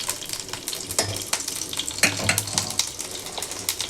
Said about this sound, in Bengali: মৌরি দিয়ে দিলাম।